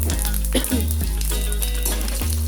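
A tempering of spices and curry leaves fries in hot oil for a curd chutney with ridge gourd, a loud close sizzle with spluttering bursts and stirring clinks, no voice.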